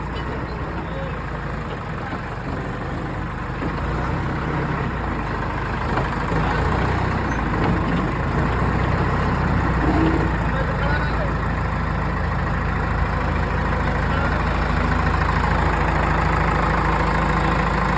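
Heavy engines of a JCB excavator and trucks idle at night at roadside works in Indapur. A steady, loud, low mechanical rumble holds without a break for the whole stretch.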